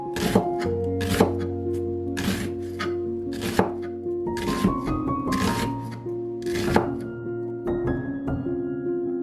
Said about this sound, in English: Thinly slice the onion as well.